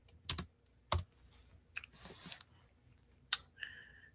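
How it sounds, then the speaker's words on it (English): Typing on a computer keyboard, a few scattered close key clicks and taps with pauses between them in an otherwise quiet room. "I can type it in."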